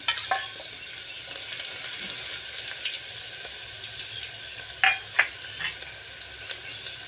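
Onion frying in oil with cumin and mustard seeds makes a soft, continuous sizzle. A few sharp clinks and pops stand out near the middle, with no talking.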